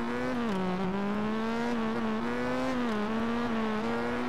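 A Suzuki GSX1000 motorcycle engine in the MX Bikes riding game, held at high revs during a wheelie: a loud, steady, buzzing drone whose pitch wavers slightly, with no talk over it.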